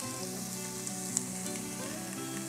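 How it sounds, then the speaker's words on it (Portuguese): Onion and garlic frying in a pan, with a steady close sizzle and crackle that runs unbroken, plus a brief bright pop partway through. "ficando bem fritinho. E a cebola vai murchando e vai ficando no ponto certo."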